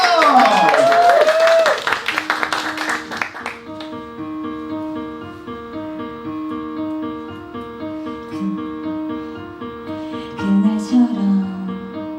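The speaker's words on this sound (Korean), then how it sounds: "여러분 큰 박수 부탁드리겠습니다" Applause from a small live concert crowd rises under a host's voice for a few seconds, then fades as a sustained, gently played instrumental intro takes over.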